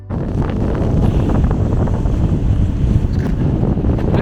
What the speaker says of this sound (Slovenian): Prijeten piš.